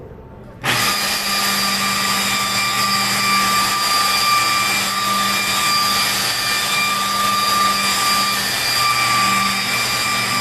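A car polishing machine running on automotive clear coat starts abruptly and holds a loud, steady whine with a constant tonal hum, close and uninterrupted, with no talk.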